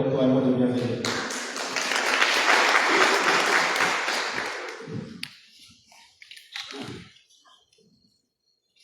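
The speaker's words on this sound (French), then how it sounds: "Mesdames et messieurs, sous vos acclamations, veuillez inviter Monsieur le maire de Moroni pour un mot de bienvenue." A seminar audience in Moroni, Comoros, applauds to welcome the city's mayor. The clapping swells loudly, holds for several seconds, then fades into scattered sounds and brief voices.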